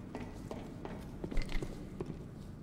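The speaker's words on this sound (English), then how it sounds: "I heard footsteps." Footsteps from a horror video game, a soft, regular series of steps heard fairly quiet and slightly distant over low background rumble, with a few louder scuffs midway.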